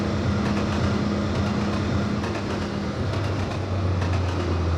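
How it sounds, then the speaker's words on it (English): A train passing in the Trainz Plus railway game, a steady loud rumble with a low droning engine hum and faint rhythmic wheel clatter, no talking. "Oh, another train."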